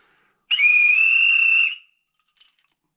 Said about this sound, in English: Not the most compact whistle ever made.